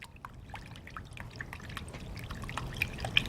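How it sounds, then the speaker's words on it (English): A whisk clicks in a fast, uneven patter while wine and liquid are beaten together for a chicken casserole, quiet and close, with no talking. "So I'm going to whisk that all together."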